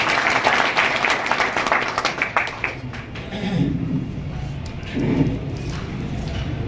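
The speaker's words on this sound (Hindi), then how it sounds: "साथियों से गुजारिश है एक जोरदार इस्तकबाल करें तालियों से" At a party workers' convention in Mustafabad, a crowd greets its state president with a loud wave of clapping that thins out after a few seconds, leaving a murmur of voices and hall noise.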